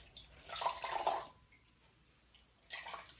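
Water squeezed out of soapy felted wool, two short wet squishing and trickling bursts separated by a quiet pause, faint and close.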